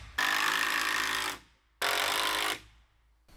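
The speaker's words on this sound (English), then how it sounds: "see if I can't get some more screws in that gap right there" A power drill drives screws into wall framing for a shop build: two loud sustained bursts of whirring motor, each about a second long, separated by a brief pause, with nothing else audible.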